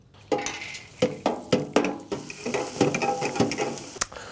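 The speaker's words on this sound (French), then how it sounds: "je vais frire mes croûtons pendant 1 minute à 180 degrés pour qu'ils deviennent bien blonds" Croutons deep-frying at 180 degrees in a kitchen fryer: a sizzling, bubbling bed broken by a series of sharp metallic clinks and scrapes of a basket or utensil, close and fairly loud.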